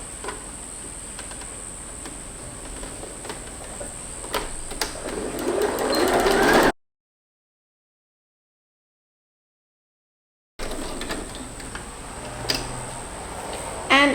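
A home sewing machine stitches a baby romper in a steady, fast mechanical chatter with a faint whine; a section drops to full silence before the stitching resumes, with soft handling noises around it.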